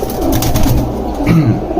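Racing pigeons bred for flying coo close and clear, a few rolling, throaty calls rising and falling over a steady loft hum.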